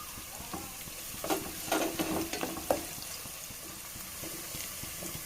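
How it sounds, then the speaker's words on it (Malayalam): Crushed garlic sizzles in a hot pan as it is added and stirred, a soft steady frying hiss with a few louder spoon scrapes and clinks near the middle. "ഇതിലേക്ക് നമുക്ക് നേരത്തെ എടുത്ത് വെച്ചിട്ടുള്ള വെളുത്തുള്ളിയില്ലേ, അത് ഞാൻ ചതച്ചെടുത്തിട്ടുണ്ട്. ഇതും ചേർത്ത് കൊടുക്കാം."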